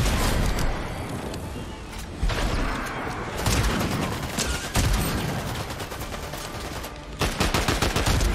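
Shotgun blasts ring out in a Fortnite match, loud repeated bursts of gunfire in quick clusters over game noise.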